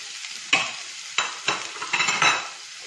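Beans tossed into a hot frying pan for a homemade American chop suey sizzle loudly, with several sharp bursts of stirring and scraping in a close, busy rhythm.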